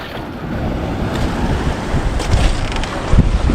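Ocean waves breaking at the shore: a steady rushing wash of surf, buffeted by wind against the microphone, swelling slightly toward the end.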